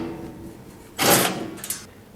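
The rear cover comes off an 8-inch DJ20 or Grizzly G0490 jointer with one brief, bright sliding scrape about midway through. A small knock follows, against a quiet room.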